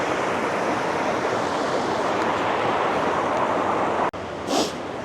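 Polecat Falls waterfall beside a creek, a steady loud broadband rush of falling water with wind buffeting the microphone, close and continuous with no talking.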